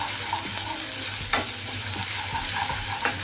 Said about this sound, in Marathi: तर हे अद्रक लसूणची पेस्ट चांगली परतून घ्यायची.